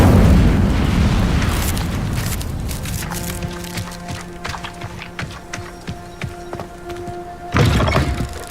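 Casting the Incendio fire spell in Hogwarts Legacy releases a loud whooshing, booming burst at the start. Scattered thuds and pops follow, then a second heavy blast near the end.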